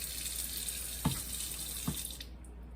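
A kitchen tap runs steadily into a sink to rinse something while Christmas cookies are being made. The water hiss is even and close, with two brief clunks partway through and the flow easing off near the end. No one speaks.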